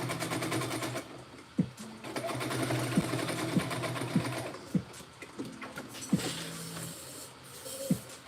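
A sewing machine sews bodices onto a skirt in bursts of rapid mechanical stitching broken by sharp clicks and brief pauses, close and fairly loud.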